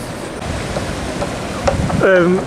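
Rough sea waves break on a beach, a steady broadband roar of surf mixed with wind buffeting the microphone, with a brief high tonal sound near the end.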